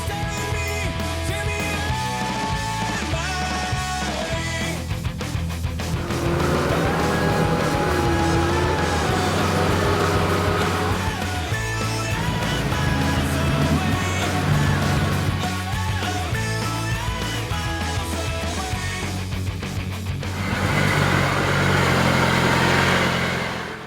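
An off-road vehicle towing a trailer eases down into a creek crossing on Cape York in Australia, its engine running steadily and loudly for the whole stretch while layered music plays over it; no talking.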